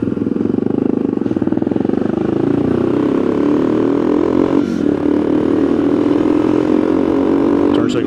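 A motorcycle rolls close by with its engine idling, then revs and pulls away with a rising drone, and a brief clatter lands near the end.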